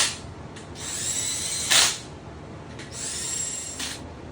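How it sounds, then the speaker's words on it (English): A power tool runs bolts down on the main girdle of an 800hp K-series engine bottom end, making two fairly quiet whirring bursts, each ending with a brief sharper rattle as the bolt seats. "So right now I'm just running the bolts down."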